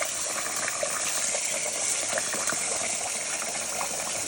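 Water pours steadily over rice being rinsed to wash out starch, a constant close gushing flow like a running tap that fills the whole moment without pause.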